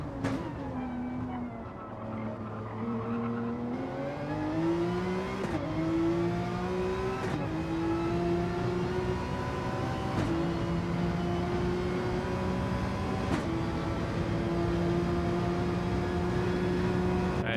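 A race car engine revs at Suzuka in a racing video game, a loud, sustained drone that climbs in pitch as it accelerates, broken by a few quick gear-change dips.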